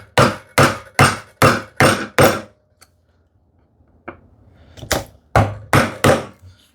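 A chisel is struck to cut into wood in hand-tool woodworking. Six sharp, close, evenly spaced knocks come first, then a quiet pause with a faint tap, then another run of hard strikes.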